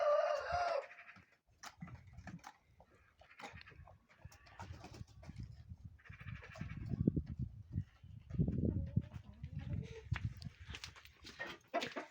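A hen clucks and murmurs close by in short, irregular bursts, with quiet pauses between and a brief higher call at the start.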